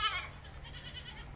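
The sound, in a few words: Saanen goat bleating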